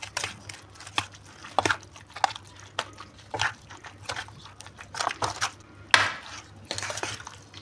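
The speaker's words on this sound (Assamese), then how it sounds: "দি পেলাই এতিয়া ভালকৈ মিহলাই ল'ম বাঁহখিনি" Bamboo shoot pickle with ten to twelve chillies being mixed with a generous amount of organic oil, heard as irregular bursts of wet scraping and clinking against the bowl, close and fairly loud.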